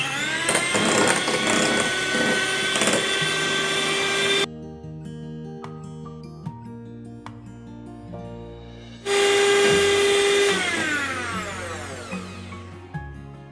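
An electric beater whisks red velvet cake premix batter at high speed, a loud buzzing whine that runs for several seconds, drops to a quieter middle stretch with a soft tonal backing, then roars back loud again.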